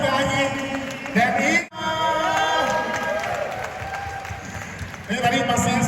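Applause and cheering from an audience, mixed with talk and music, with a brief drop partway through before the noisy crowd sound returns.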